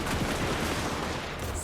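A crackling fusillade of hand gunner volleys in a Warhammer fantasy battle set in Reikland, dense overlapping shots rolling together for a moment, loud and close.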